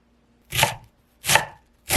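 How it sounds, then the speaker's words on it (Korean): A knife slicing through half a head of cabbage into thick slices on a cutting board, three crisp separate cuts with a crunchy snap, close up and with nothing else heard. "남은 양배추 반통은 1cm 두께로 썰어줄게요"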